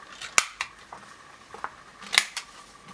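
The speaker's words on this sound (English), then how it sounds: "I'm going to round these corners." A handheld corner punch rounds the corners of folded paper with a handful of crisp, sharp clicks and snips, spaced unevenly and heard close up.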